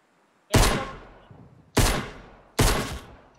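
Three loud, sharp gunshots in a shooting video game, each with a quick booming attack and a fading tail, spaced over about two seconds with near silence before the first.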